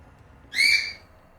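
A pet bird gives a single bright, whistled call like a hungry baby bird begging, loud and close, lasting about half a second against a quiet background.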